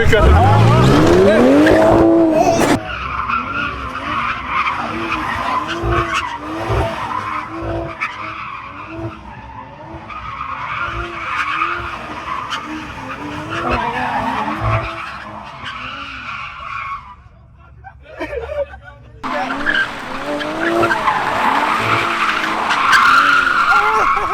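A Toyota Supra drifting at night with loud, sustained tire squeal and skidding over a revving engine, starting and ending in bursts of screeching, while people talk in the car.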